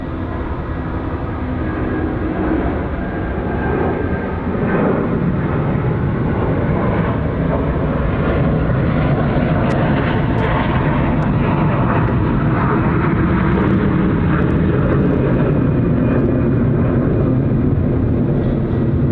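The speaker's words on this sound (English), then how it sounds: "Here we go, Capital Jet 480." A Capital Jet airliner at Sydney Airport, departing for Qingdao, gives a loud, steady jet roar that holds close and strong for about nineteen seconds without a break.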